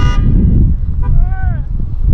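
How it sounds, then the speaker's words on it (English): Car horns tooting in a large parking lot at a performance truck gathering, a brief honk at the start and another short toot midway over loud wind and background noise. "They're honking already."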